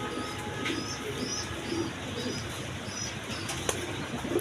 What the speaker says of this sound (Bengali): এখানে এক টিয়ার রেড কালার গররা কবুতর দেখেন